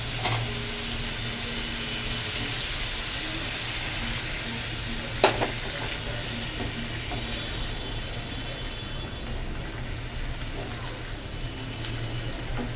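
Koi fish cooks in a little water in a pan, giving a steady, continuous sizzling hiss and bubbling that stays close and even throughout, broken once by a brief knock.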